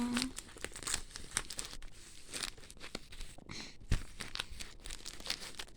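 Trading card packs being torn open by hand, with close, fairly quiet plastic wrapper crinkling, crackling and tearing in irregular bursts over several seconds, and no speech.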